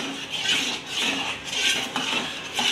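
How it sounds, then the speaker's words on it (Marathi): A spoon scrapes and clinks against a bowl while stirring sugar into custard powder for fruit custard, a close, quick run of light metallic taps and scrapes. "आता ही साखर आपल्याला ह्या कस्टर्ड पावडरसोबत छान अशी मिक्स करून घ्यायची आहे"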